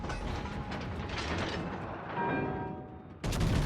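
Naval gunfire in a warship video game, including a heavy hit from a battleship, comes as a dense run of booming, rumbling blasts with a loud sharp new impact near the end.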